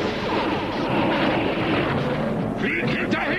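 Heavy booming blasts of laser cannon fire in the animated series Transformers G1, loud and continuous, with rumbling explosions layered over German voices talking throughout.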